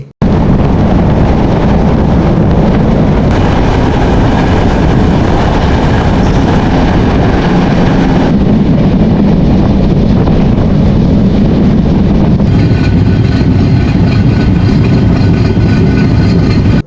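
The Jahanabad Express passenger train running from Khulna to Dhaka, a loud, steady rumble of wheels and rushing wind buffeting close by without a break for the whole stretch, with no talking.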